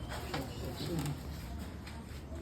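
Pigeons coo softly in short low murmurs, faint and somewhat distant, with a person talking over them.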